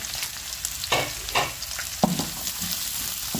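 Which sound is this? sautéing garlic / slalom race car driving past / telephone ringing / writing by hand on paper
sautéing garlic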